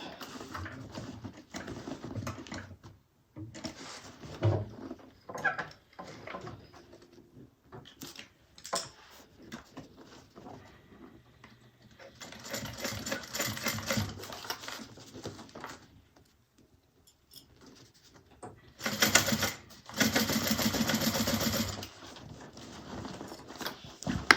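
A sewing machine stitches a zipper pocket closed on a handbag in short bursts of rapid mechanical clatter. Two longer, louder runs come near the end, with quiet pauses and small handling sounds between them.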